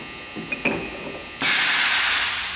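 A Lucas 441B-72 table-type horizontal boring mill's 50-taper power tool lock releases with a few small clicks, then a sudden loud, steady pneumatic hiss of air as the tool ejects, continuing alone.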